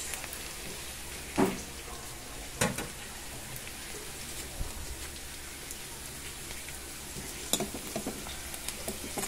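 Garlic sautéing in a pan gives a quiet, steady sizzle, broken by a few sharper pops and clatters of stirring.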